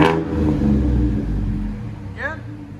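A 2016 Chevy Silverado's 4.3L V6 idles and revs with a steady, close low rumble through Flowmaster Super 10 dual exhaust, while a voice briefly speaks over it.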